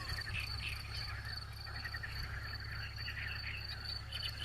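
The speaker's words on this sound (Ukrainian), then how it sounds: "Красота така жаби співають" A dense, steady chorus of frogs and insects trilling outdoors by a small pond, continuous and fairly loud, with no voices.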